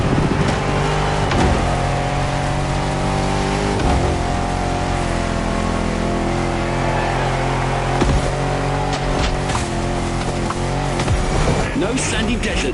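Off-road 4x4 engine running loud and steady during a jungle race in The Crew Motorfest, revving and shifting over a dense mix of game music and effects, with a voice talking over it.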